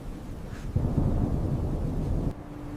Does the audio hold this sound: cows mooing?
no